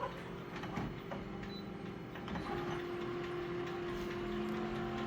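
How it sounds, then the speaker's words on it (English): Janitors run a vacuum cleaner in a building's common area, giving a steady, continuous motor drone with a whining tone. It sounds moderately faint and unbroken throughout, with no one talking. "in the common area of the building doing the vacuuming"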